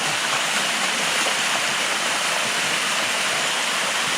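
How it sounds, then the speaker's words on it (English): Waterfall at the Sticky Waterfalls near Chiang Mai, Thailand, a loud, constant close rush of falling water filling the whole sound with no pauses. "check out the sticky waterfalls"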